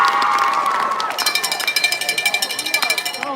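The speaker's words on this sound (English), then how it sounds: "Round of applause for yourself." An audience at an awards ceremony breaks into applause, with dense clapping and some cheering that builds into a rapid, rhythmic patter. Voices ring out over the crowd noise.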